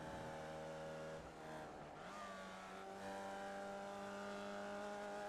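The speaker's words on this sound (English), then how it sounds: "Listen to the change of sound in this car. This like comes on and off the accelerator." A Formula Vee race car engine in the iRacing sim racing game drones steadily as the driver comes on and off the accelerator, its buzzing pitch dipping briefly mid-lap before climbing again.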